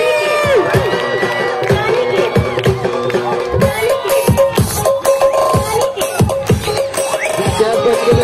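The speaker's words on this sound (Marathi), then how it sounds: "टाळ्या झाल्या पाहिजे" Audience at a hypnotism show organised by a local youth group cheers, whoops and shouts loudly over a busy, tonal backdrop, with children's voices and crowd babble rising and falling throughout.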